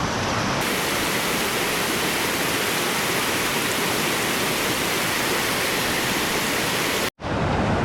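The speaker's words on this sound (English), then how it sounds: "the river crossing" A rushing mountain river at a backcountry crossing in Montana's Beartooth range roars as a loud, steady broadband wash of water, close by and unbroken until a brief cut near the end.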